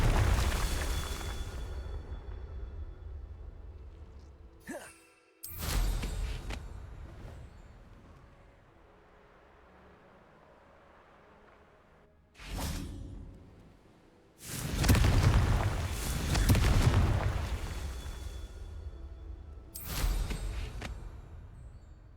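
Bombarda and Confringo spells blasting in the video game Hogwarts Legacy, several loud booming explosions with rushing bursts separated by quieter stretches of low rumble.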